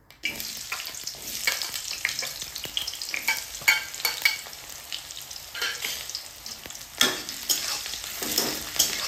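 Onions frying in hot oil in a kadai on a gas stove, a steady close sizzle with repeated scraping and stirring knocks throughout.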